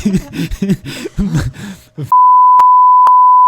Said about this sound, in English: we're gonna bleep that out